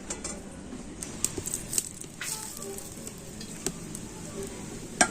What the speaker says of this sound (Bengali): আর এখন আমি এই গরম তেল এই এক ডাবু নিয়ে এই ব্যাটারের মধ্যে দিয়ে দেব